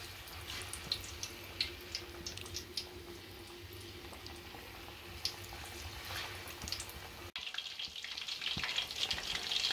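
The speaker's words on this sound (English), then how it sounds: "Just gently lower it into your hot oil. And do the same with the rest of your fish bits." Fish pakora pieces lowered into hot oil fry with a steady crackling sizzle and scattered pops. The frying brightens into a louder hiss near the end, with no talking.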